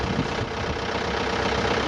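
A tractor engine runs at a harakeke trial plot, a steady, rough mid-to-low drone with no breaks, moderately loud and close.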